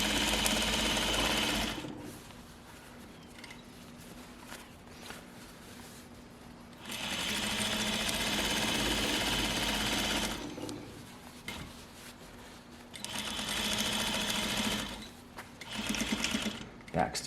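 A sewing machine runs a quick back stitch in bursts of steady rapid whirring, loud stretches broken by quieter pauses, with a person talking in between.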